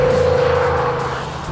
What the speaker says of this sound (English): The 3-liter V6 pushes out a ridiculous amount of energy.